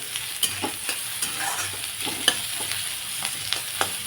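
Onions frying and being stirred in a pan for kadai paneer, with a steady sizzle under repeated scraping and stirring clicks of a spoon against the pan, close and moderately loud, no talking.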